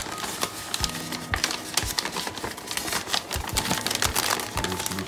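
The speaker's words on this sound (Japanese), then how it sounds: "この紙袋をちょっと開けますね" A paper bag from an aquarium shop is opened up close, with dense crinkling and rustling of paper and sharp snapping taps throughout, no voices.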